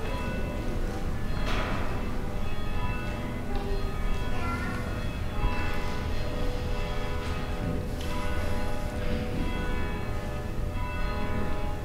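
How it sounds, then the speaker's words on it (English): Church bells ring continuously before a worship service, with layered, sustained tones, a dense and steady peal filling the whole stretch. "as you hear the sound of the bells"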